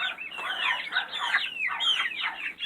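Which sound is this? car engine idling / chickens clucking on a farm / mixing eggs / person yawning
chickens clucking on a farm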